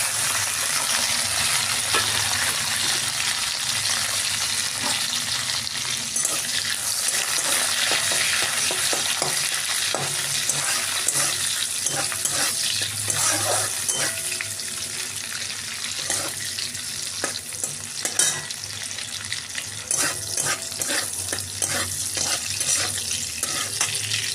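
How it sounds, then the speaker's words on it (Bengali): Cashews and raisins frying in ghee in a kadai, a steady close sizzle with stirring clatter running without a break and no talk. "ঘিতে কাজু আর কিশমিশটা ভেজে নেব।"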